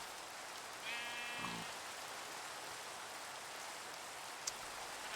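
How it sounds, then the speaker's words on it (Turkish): Steady, soft hiss of rain falling in the block-building game Minecraft fills the whole stretch, with a brief sheep bleat early on and no talking. "Yağmur bitse bari de."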